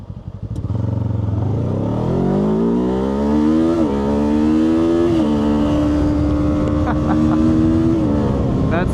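A 2025 Kawasaki Ninja 7 Hybrid motorcycle accelerating hard with e-boost, the engine note climbing through several gear changes, loud and close, with a rising whine between shifts.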